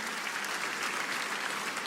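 A church congregation bursts into lively applause during a Christmas sermon, a thick, continuous roar of many hands clapping at an even, fairly distant level.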